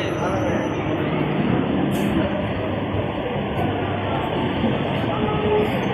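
A Panskura–Shalimar local train rolls into a station platform, a loud continuous rumble of wheels and carriages close by that fills the whole stretch.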